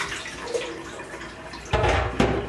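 Soaking water drained from prepared ingredients for Afghan chapli kabob, a quiet running trickle that swells into a louder splashing pour near the end.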